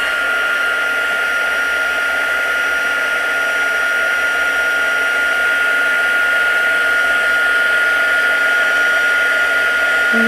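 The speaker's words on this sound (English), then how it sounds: "heat tool needs a little bit of warming up" A heat tool blows steadily to melt embossing powder for a handmade Christmas card, a loud and constant whirring drone with a high whine that stays even and unbroken throughout, with no talk over it.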